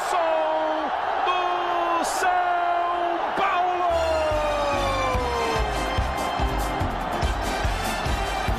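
A stadium crowd at the 1999 Brazilian championship semifinal between São Paulo and Corinthians roars and chants steadily, with horn-like tones and whistles rising over the din while a commentator talks throughout.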